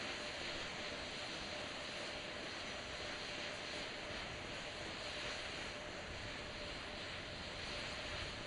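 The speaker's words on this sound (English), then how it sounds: "we're going to get that thrust vector control actuator test. This is a gimbaling of the engines." Steady broadband roar of rocket engines during a thrust vector control actuator test, four RS-25 engines gimbaling on the Artemis II launch pad; a constant, dense rumble with no pauses, loud and continuous throughout.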